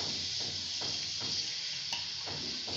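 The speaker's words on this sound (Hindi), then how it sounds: "प्याज को थोड़ा सा फ्राई होने देते हैं" Onions frying in oil in a pan for a capsicum and chana dal curry give off a steady, close sizzling hiss, with soft stirring scrapes every half second or so.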